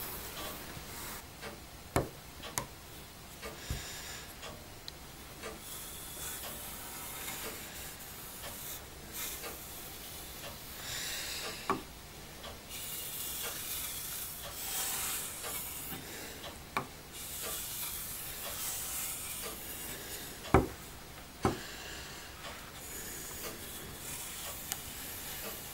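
A knife blade drawn along a leather strop, repeated soft rasping, hissing strokes at a slow, even pace with occasional sharp taps, close and quiet with no talking.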